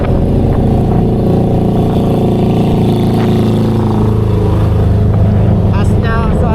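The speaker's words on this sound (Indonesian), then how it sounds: "Khasnya suara truk puncak ya, truk yang di puncak." Heavy truck labouring up the Puncak mountain road between Cianjur and Jakarta, its steady low engine drone loud and close, with traffic noise around it and voices talking over the engine.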